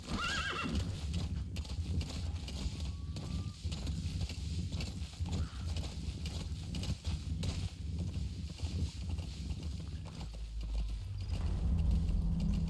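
A horse in Metal Gear Solid 5 clops its hooves steadily and neighs loudly over a dense, continuous game soundscape that swells toward the end.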